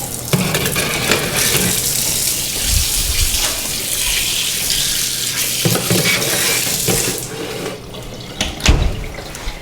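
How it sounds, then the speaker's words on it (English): Running tap water splashes steadily over hands at a kitchen sink during a gluten-free vegan bread stick baking session, a continuous close hiss with a few sharp knocks and bumps near the end. "I'm just going to wash my hands"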